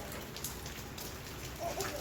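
Rain falls steadily in a soft, continuous patter of drops, faint and fairly close, with a few brief brighter splashes.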